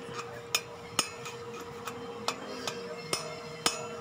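Sharp metallic taps of a hammer and drift driving out a 6301 bearing from a motorcycle front wheel hub, about nine distinct strikes at irregular spacing over a steady low workshop hum, with no talking.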